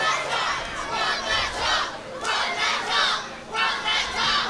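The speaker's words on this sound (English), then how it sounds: "Crowd chanting off the top." Fans at a British independent wrestling show in Bexleyheath chant loudly in rhythmic, repeating surges, with the crowd's voices swelling and dipping in a regular pulse for several seconds.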